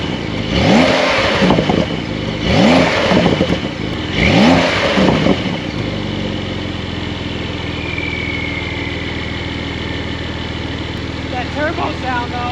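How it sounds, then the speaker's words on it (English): A Porsche 911 Carrera's turbocharged engine revs three times in quick succession, loud and close, each rev rising and falling, then settles into a steady idle with turbo whine and light background sound. "Turbo sound though."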